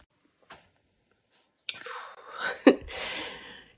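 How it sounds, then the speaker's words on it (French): A single close, loud sneeze erupts after a soft sharp inhale, its noisy burst trailing off quickly in a quiet room with a few faint small sounds before it. "Oui, j'éternue encore."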